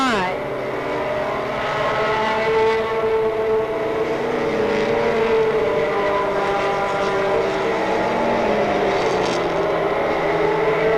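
Race cars roar past at Monadnock Speedway during a weekly race, several engines overlapping in a loud, sustained whine that rises and falls as they circle the oval.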